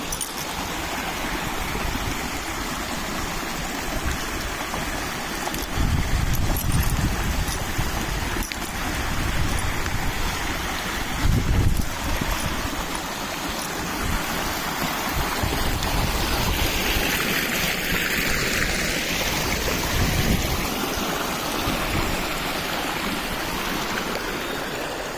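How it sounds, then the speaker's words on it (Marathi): A rain-fed stream rushes beside the Shri Dattaguru Math temple at Tandulwadi after heavy rain, making a loud, steady, broadband roar of flowing water that continues without a break. "हे पाणी आता कमीत कमी 5 महिने ते 4 महिने वाहणार आहे."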